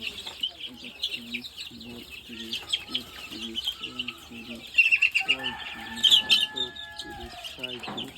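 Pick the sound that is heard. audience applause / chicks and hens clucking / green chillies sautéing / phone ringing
chicks and hens clucking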